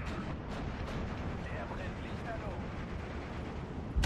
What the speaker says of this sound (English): I'm able to also, pin down the rest of these rifles with this artillery fire.